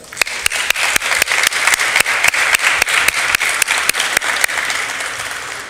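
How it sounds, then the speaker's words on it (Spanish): Audience at a youth congress applauding, a continuous crowd of clapping hands with one close, sharp clapper standing out in a steady, rhythmic beat of about four claps per second over the wash. "Para ellos, por favor, les pido les brindemos un fuerte aplauso."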